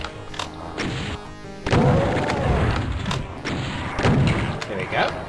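Repeated booming shotgun blasts from a super shotgun in Doom 2, loud and punchy, firing several times at irregular intervals amid monster noises and game effects.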